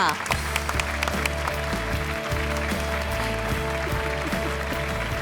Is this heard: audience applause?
yes